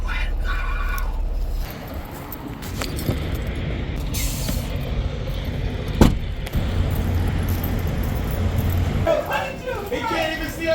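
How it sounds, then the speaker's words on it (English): A truck engine idles down in a cab during winter driving, with a steady low rumble, a brief hiss like an air brake release, and some clinking, while people talk over it. "Wait for the truck to idle down."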